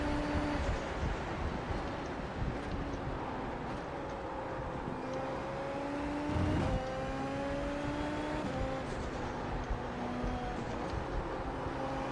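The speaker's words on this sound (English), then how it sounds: "That was definitely an unnecessary downshift there." A Formula 1 car in the iRacing simulator at the Hungarian Grand Prix holds a steady high engine whine, with a quick downshift blip and a drop in pitch partway through, playing continuously with no talk.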